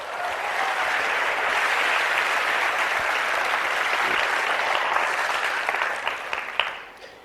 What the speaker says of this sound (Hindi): तालियां होनी चाहिए आना के लिए, है ना।